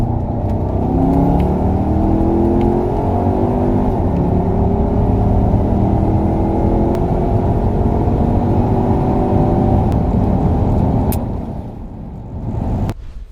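A Porsche with its factory air plenum accelerates hard, the engine note climbing steadily in a loud, sustained run before easing off near the end, with no voices over it.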